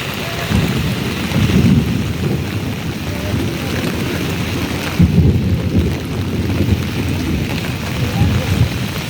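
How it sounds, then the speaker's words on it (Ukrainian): Heavy autumn rain pours steadily throughout, with low rumbles of thunder swelling at intervals in the background. "Такий рясний дощик"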